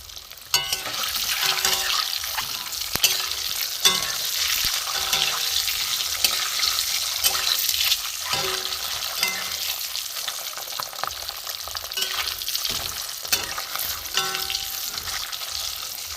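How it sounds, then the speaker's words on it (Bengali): Steady, crackling sizzle of duck eggs frying in hot oil, continuous throughout with scattered sharper pops and spatters. "আমি ডিমগুলো একটু ভেজে নেব"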